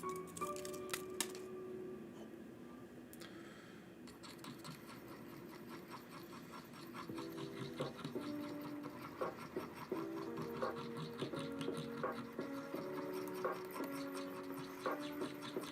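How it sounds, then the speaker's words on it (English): A tattoo needle stirs ink for a stick and poke tattoo, giving faint, close scraping and clicking that grows busier and more rhythmic in the second half, with a quiet background and no voices. "Stirring the ink that I like."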